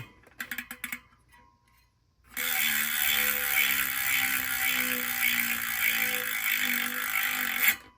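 A rapid, even ratcheting buzz from a freewheeling LUN Hyper D67 3.0 carbon bicycle wheel hub spins steadily for several seconds, preceded by a few brief clicks and a pause.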